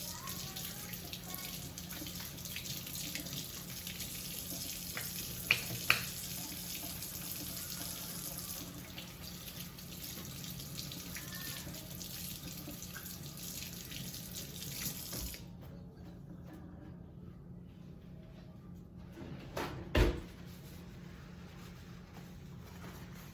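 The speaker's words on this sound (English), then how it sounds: "Now I'm gonna wash my hands." A kitchen tap runs steadily into a sink while hands are washed, a close continuous splashing stream with a few brief clunks, then the flow stops and faint handling noises remain.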